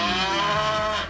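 A cow moos in one sustained, loud, harmonic-rich bellow lasting about a second, close and alone with no voices.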